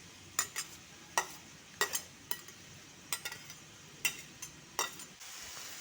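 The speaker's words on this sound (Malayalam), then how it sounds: "വെളുത്തുള്ളി ചതച്ചതും ഇഞ്ചി ചതച്ചതും ചെറിയ ഉള്ളി ചതച്ചതും പച്ചമുളകും കറിവേപ്പിലയും എല്ലാം ഇട്ട് നന്നായി ഒന്നുകൂടി വഴറ്റണം" Crushed garlic, ginger, shallots, green chilli and curry leaves fry in a pan for Kerala-style crab roast, a low sizzle under about nine sharp spoon-against-pan stirring strikes at a brisk, uneven pace, close up.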